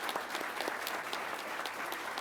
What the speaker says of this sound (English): So if we could just give them a round of applause on their final graduation today.